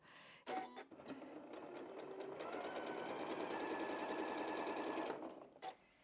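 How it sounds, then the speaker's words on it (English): A sewing machine stitches through a quilted fabric bag in a steady, rapid whir lasting several seconds, starting and stopping with soft clicks, fairly quiet and close with no talk over it. "It automatically does it as you start to sew."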